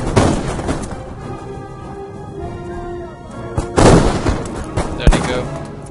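Musket volleys from light infantry on a ridge in the strategy game Napoleon Total War, crackling bursts of gunfire rolling through a busy battle mix, with louder volleys near the end and a voice talking over it.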